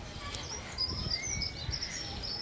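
Several birds at Lincolnshire Wildlife Park and Parrot Zoo in Friskney chirp and call in quick, overlapping bursts, fairly faint against soft background rustling.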